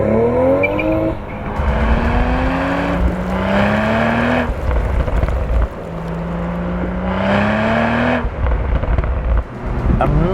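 A manual, rear-wheel-drive Toyota GR Supra sports car accelerates hard, its engine note climbing through two long rising pulls with brief drops at each gear change, loud and close, with no talking.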